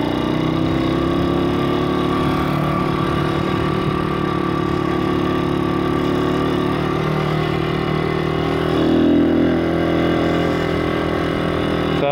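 A pit bike's small single-cylinder engine drones steadily on a test ride up a hill, loud and close, holding a fairly even note with a brief rise in revs near the end.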